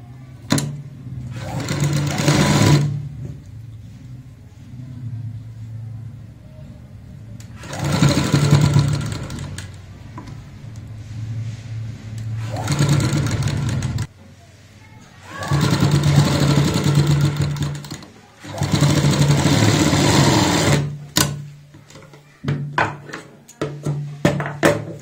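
Sewing machine running in five separate stitching bursts while sewing a kurti neckline, each burst a steady close whirring hum broken by short pauses.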